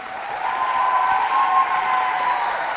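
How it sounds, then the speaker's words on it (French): An audience applauds during a school quiz contest between Academie Royale and George Washington, an even wash of clapping with a steady tonal hum running underneath. "On applaudit."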